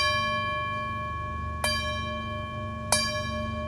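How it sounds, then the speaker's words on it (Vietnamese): A small 9 cm bowl of cloisonné bronze is tapped lightly on the rim twice, each strike giving a bright metallic ping followed by a clear, sustained shimmering ring, close up and quiet. "chất liệu bằng đồng Pháp Lam, rất là vang. Đây cả nhà xem ha, mình chỉ cần gõ nhẹ thành thôi,"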